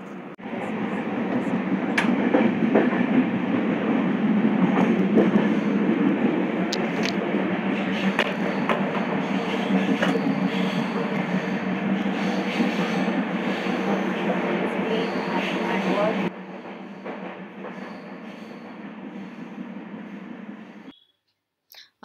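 Deccan Queen passenger train running, a loud continuous rattle and roar of wheels and carriage heard from inside, steady throughout before dropping in level and cutting off near the end.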